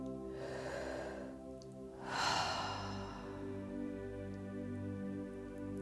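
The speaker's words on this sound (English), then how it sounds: "Take a nice deep breath." A single deep breath during guided meditation, a soft inhale swelling into a fuller audible exhale, close and quiet over a steady low background hum.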